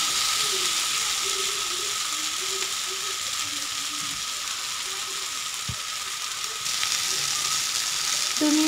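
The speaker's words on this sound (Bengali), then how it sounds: "দু মিনিট মতো আমি আলু বেগুনগুলো ভালো করে কষিয়ে নিব।" Potatoes and brinjal fry in a pan with a steady, close sizzle and hiss, accompanied by occasional faint clinks and scrapes throughout.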